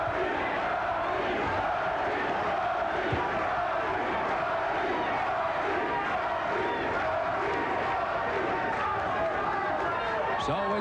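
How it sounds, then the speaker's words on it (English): A boxing crowd at an IBF world super lightweight title fight roars steadily throughout, a dense wall of cheering with chanting rising through it; no clear pauses in the noise. "So with Charles Murray's fans cheering in the background at one time, and now Rodney Moore's fans with a chant"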